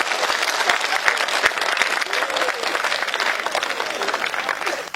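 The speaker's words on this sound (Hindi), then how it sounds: "ये एक बार दोनों हाथ ऊपर उठा के तालियां बजाओ।" A comedy-show crowd claps with both hands raised overhead, a continuous, lively burst of applause with sharp individual claps standing out, holding steady for the whole stretch.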